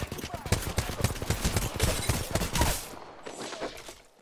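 Rapid, evenly spaced gunfire from an enemy Pathfinder in Apex Legends rattles out in a loud automatic burst for over two seconds, then fades into quieter game noise.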